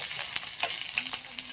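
Cucumbers tossed into potatoes frying in a little oil left from fish give a close, bright sizzle with a few quick stirring scrapes.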